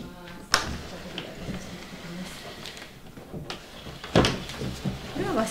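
A sliding door of a Japanese-style room in a house is opened, with a sharp knock and rolling scrape early on and another loud thump later, amid quiet room sounds and some talking.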